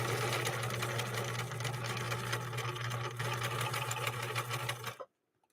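A 1963 Husqvarna Viking 19E sewing machine fitted with a double eye needle runs a long straight stitch. Its steady, close whirring hum continues for about five seconds, then stops abruptly into silence.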